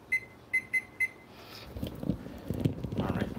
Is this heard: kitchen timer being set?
yes